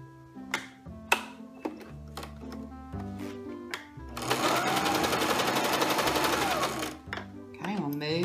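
Domestic sewing machine stitching a buttonhole stitch in short bursts on a pillowcase dress: a fast, rhythmic mechanical clatter for a few seconds, framed by clicks and handling knocks before and after.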